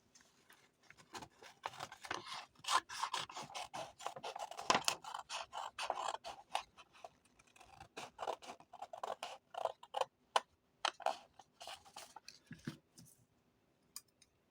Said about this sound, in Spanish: Procedo a cortar la pinza.